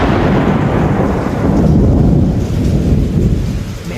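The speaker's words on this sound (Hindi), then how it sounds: "वो काली रात और गरजते काले बादल।" A thunderstorm sound effect: deep rolling thunder rumbles loudly over steady heavy rain, continuous throughout and fading slightly at the end.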